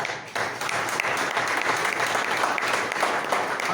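An audience claps for nurses at a ceremony in Mapusa, Goa, honouring COVID workers. Dense, steady applause starts after a brief lull and runs close and loud to the end, with no talk over it.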